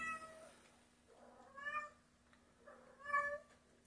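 A cat in heat meows and caterwauls in a home kitchen, giving about three drawn-out, wavering yowls at moderate distance with pauses between them, with no talk.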